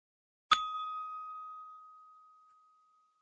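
A single bright text message notification ding in a video game, close and clear, with a sharp onset and a pure tone that rings out slowly for about two seconds before fading to silence.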